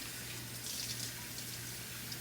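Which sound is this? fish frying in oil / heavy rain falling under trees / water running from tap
water running from tap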